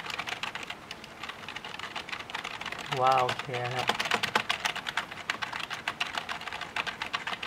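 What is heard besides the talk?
keyboard key presses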